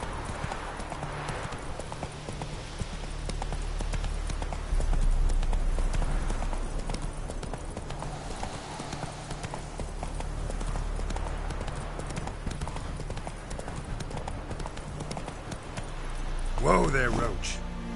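Horse hooves clip-clop steadily as the horse Roach walks in a PS4 video game, with an occasional snort or whinny and a voice talking over the hoofbeats.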